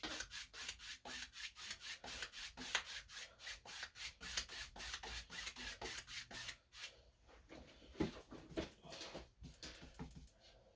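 A brush rubs paint back and forth over rough gessoed canvas in steady, close strokes, a dense scratchy rhythm that loosens and turns sparser toward the end.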